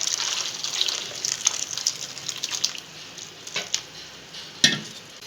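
Hot water pours into a bowl of soya chunks, a close, bright rushing splash that runs steadily, thins out partway, then ends with a few louder splashes.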